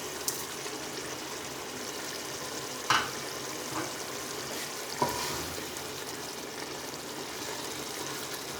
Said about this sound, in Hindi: पाउडर मसाले को 2 से 3 मिनट तक भून लेते हैं।